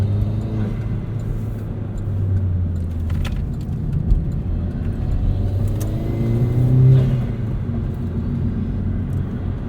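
A 2009 Chevrolet Cobalt SS with its stock exhaust accelerates, heard from inside the car as a steady, loud low engine drone that swells and rises in pitch, with faint rattles and no talking.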